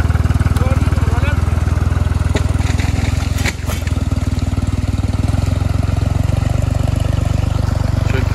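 A Tümosan tractor engine idles in a forest, a loud, steady, low mechanical chug running throughout with a brief dip midway, while people talk over it.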